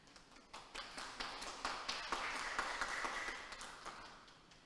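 A conference audience at the ICES 2021 academic event, hosted by a Teacher Training and Education Faculty, starts with scattered individual claps that build into soft, fairly quiet applause and then thin out.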